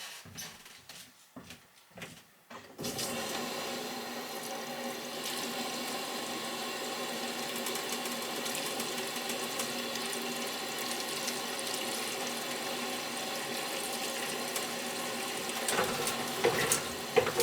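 Water drains down a backing-up bathtub drain, a steady rushing, trickling flow nearby that follows a few brief knocks at the start and carries on without pause.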